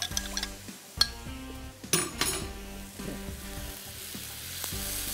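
Fried chicken being stirred into yakhni chicken stock in a pan, with a steady sizzle, spoon scrapes and clinks against the metal, and a few louder knocks.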